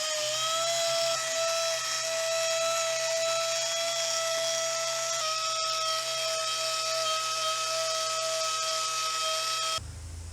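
A wood lathe whines at a steady high pitch while wax is buffed into a spinning apple-wood live-edge bowl. The tone holds evenly for about ten seconds, shifts slightly midway, then cuts off abruptly near the end.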